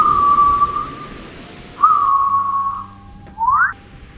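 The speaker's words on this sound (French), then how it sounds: "Ceci est l'isoboué, le sifflement de la mer." Whistled breath of free-diving women surfacing from a cold sea, sharp pitched whistles that glide and sustain, three of them close and loud with quiet gaps between.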